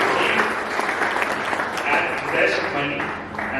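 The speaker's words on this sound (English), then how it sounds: "So give him a round of applause." Applause from a tech community meetup audience welcoming a speaker, continuous clapping at moderate level with some voices underneath.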